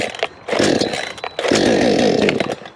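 A cheap chainsaw's small two-stroke engine is pulled over repeatedly, flooded and struggling to fire, giving two long sputtering bursts of close, loud cranking with brief pauses between pulls.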